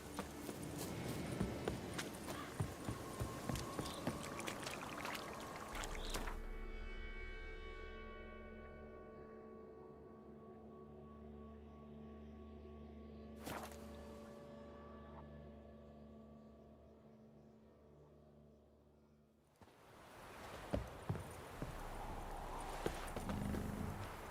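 Geralt's horse Roach trots in The Witcher, hooves clip-clopping in a steady rhythm at moderate loudness, with a brief snort or whinny and game music and ambience around it.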